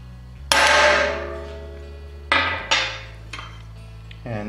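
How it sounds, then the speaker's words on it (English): A hammer strikes a metal stamp to mark a metal piece, giving a loud ringing clang followed by a few lighter taps and a final strike, each with a metallic ring that fades, close and alone. "I can just hold this and hit it with a hammer."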